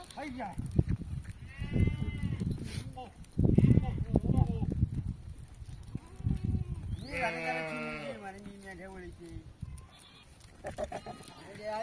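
Sheep bleat repeatedly at close range in a farm flock setting, with someone talking over and between the calls and a few other animal sounds mixed in.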